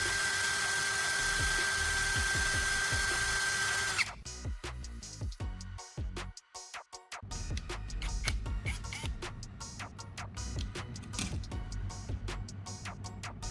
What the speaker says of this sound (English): While spinning the drill, I'll use a piece of sandpaper to shape the end into a fine, sharp point.